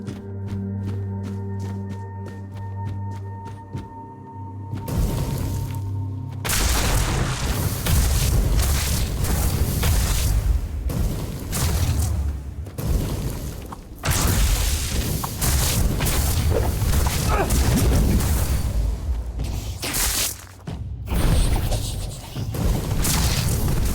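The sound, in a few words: gunfire and explosions in video game Tainted Grail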